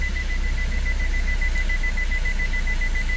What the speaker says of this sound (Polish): tutaj pika od tego, o, od czujników